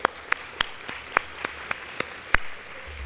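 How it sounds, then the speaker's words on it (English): Scattered applause at an appreciation dinner: a handful of distinct, sharp claps spaced unevenly across a few seconds, sounding sparse and moderately distant against a quiet room. "Round of applause."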